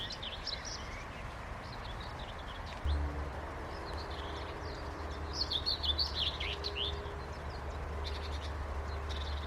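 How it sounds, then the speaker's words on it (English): Birds chirp and twitter in the distance on a summer morning on the outskirts of Copenhagen, over a steady low outdoor hum, with calls building and overlapping later on. "I love listening to the bird songs."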